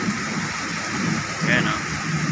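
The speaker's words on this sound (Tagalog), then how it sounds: "Grabe mga idol, ang lakas ng ulan ngayon. May kasamang konting hangin." Heavy rain with a little wind in Makati, a steady, dense hiss of downpour close by, with some talk mixed in.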